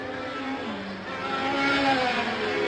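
1971 Formula One cars, a Ferrari among them, accelerating at the Dutch Grand Prix, a loud continuous engine drone whose pitch sweeps and climbs as the cars pull away, heard at a distance with no voices.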